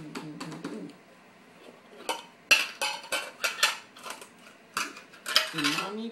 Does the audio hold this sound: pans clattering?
yes